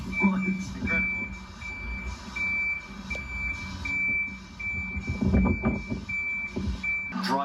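A giant orange Volvo box lorry sounds a steady run of reversing beeps at an even rhythm over a low engine rumble, fairly close, with a voice talking over part of it.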